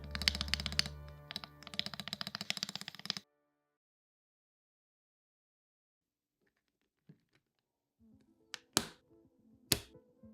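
Typing on a Wooting 60HE mechanical keyboard: a dense, rapid patter of keystrokes for about three seconds, then silence, followed by a few sparse, sharper clicks and taps near the end.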